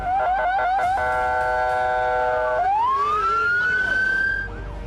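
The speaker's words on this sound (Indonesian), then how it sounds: "Mobil pemadam dan ambulans sibuk melintas menuju titik lokasi terdampak gempa" Loud wailing sirens from fire trucks and ambulances passing on the way to earthquake-hit areas, first a rapid yelp and then a steady tone that rises in pitch.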